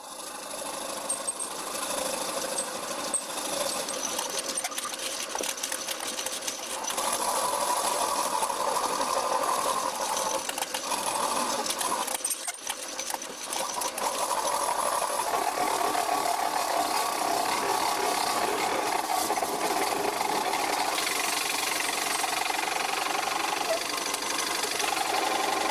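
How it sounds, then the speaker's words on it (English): A boring bar rubs against wood while a wooden bowl turns on a lathe, a steady continuous scraping whir over the lathe motor's hum, loud and close with a brief dip midway. "The underside of the boring bar is rubbing the wood."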